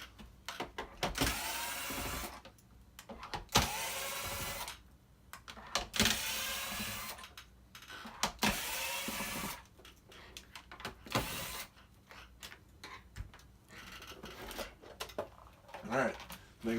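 The casing of an Aqua-6 ozone generator is being opened by removing screws, giving repeated short bursts of a small electric screwdriver whirring. Quiet pauses and light handling clicks fall between the bursts, all at low volume.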